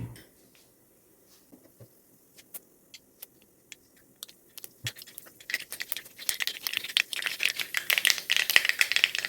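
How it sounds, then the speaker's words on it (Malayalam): Mustard seeds pop and crackle in hot oil in an iron wok: a few sparse clicks at first, then a dense, loud run of sharp spattering pops building over the second half, with no talk. "കടുക് പൊട്ടി വരുന്നുണ്ട്"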